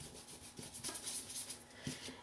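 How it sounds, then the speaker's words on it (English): A paintbrush is rubbed back and forth on paper to work off excess paint, giving soft, quiet, close scratchy strokes in an uneven rhythm. "I'll take the excess in my brush and I'll just rub it off in another square."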